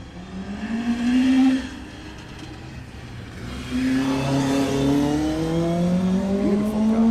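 A Vauxhall Corsa rally car racing at Oulton Park during a circuit rally round, its loud engine note climbing under hard acceleration, easing briefly, then revving up strongly again through the gears.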